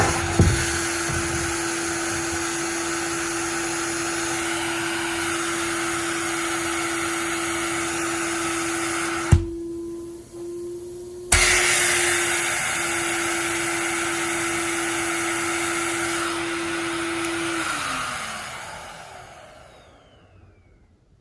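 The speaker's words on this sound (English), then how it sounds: "And then you turn your vacuum on" A household central vacuum system drones loudly and steadily with a constant hum, cuts out briefly midway, restarts, then winds down and fades to silence at the end.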